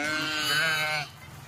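A Kathiawari sheep at a livestock sale lets out a single loud, close bleat lasting about a second, then low background murmur follows.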